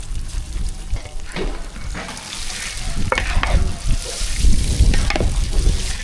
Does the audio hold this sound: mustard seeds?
yes